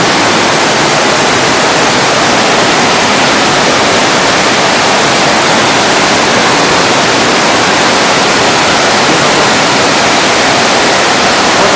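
A loud, constant roar of rushing water from a waterfall in Bulgaria fills everything, a dense unbroken wash of noise with no pauses.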